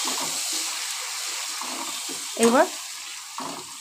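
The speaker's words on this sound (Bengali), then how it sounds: "টমেটোটাকে গ্রেট করে রেখেছি, সেই টমেটোটাকে আমি দিয়ে দিচ্ছি।" Grated tomato hits a hot pan with a burst of sizzling near the middle, over a steady background hiss of frying; someone speaks a single word just before.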